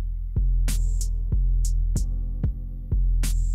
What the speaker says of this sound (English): I'm gonna go in with a stay stitch around the circumference of the leg